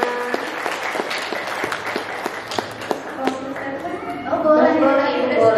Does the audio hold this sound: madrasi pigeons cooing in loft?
no